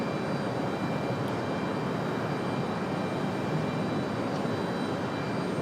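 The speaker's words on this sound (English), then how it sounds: "we got this Southwest departure" Southwest Airlines jet airliner departing from Raleigh-Durham International Airport, a loud, steady broadband engine roar that holds constant from start to finish, with no voices over it.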